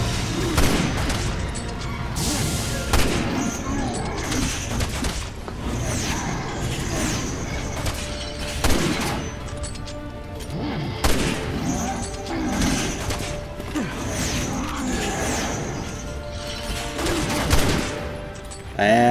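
Gunfire in the Resident Evil 6 game, with a series of sharp shots spread across the clip at irregular intervals amid game sounds and effects, fairly loud and punchy.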